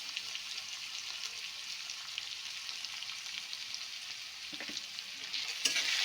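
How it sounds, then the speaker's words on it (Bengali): Chopped onion and slit green chillies fry in hot oil with a soft, even sizzle that carries through to the end, and a couple of light utensil knocks come near the close. "এবার দিয়ে দেবো আমি পেঁয়াজ কুচানোটা, দিয়ে দেবো কটা কাঁচা লঙ্কা"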